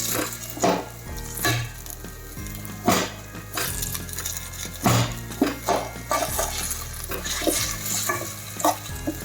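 Jaggery with a few spoonfuls of water melts in a pan for a dry fruit pak sweet, stirred in repeated scraping strokes over a soft, steady bubbling sizzle, close and fairly loud.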